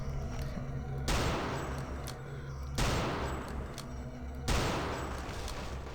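Bursts of rapid gunfire in the video game Return to Castle Wolfenstein erupt three times over a steady low background hum, each volley sharp and loud before tapering off.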